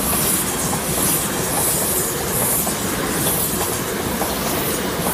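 A Class 458 electric train rolls past the Mortlake station level crossing in Surrey, filling the air with a loud, close rush of wheel noise, rhythmic clickety-clack and a faint high squeal.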